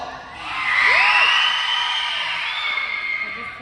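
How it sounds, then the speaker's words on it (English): A monster truck show crowd yells, whoops and cheers for the white bike, a loud sustained roar that swells and then slowly eases off, with children's shouts mixed in. "now if you like the white bike, let's hear you yell"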